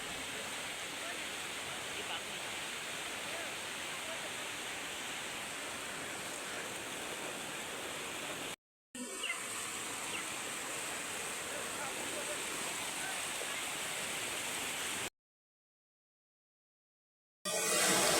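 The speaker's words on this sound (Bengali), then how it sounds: "দেখছো নি জলটা কত বেশি স্পিড, এই দেখো এত জল" Fast-flowing floodwater rushing over a submerged village road, a loud continuous broadband roar close by, briefly cut off twice.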